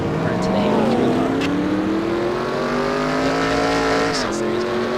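A race car in a video game race at Daytona screams past with rising and falling engine pitch and tire noise, loud and continuous, ending in a slam as it crashes into another car.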